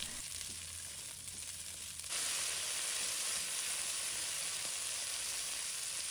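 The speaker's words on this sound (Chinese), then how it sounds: "把红椒、芹菜、洋葱放入锅中，翻炒至断生。" Red pepper, celery and onion stir-fry in a wok with ginger and garlic, giving a steady, loud sizzle that grows fuller partway through, with no one talking.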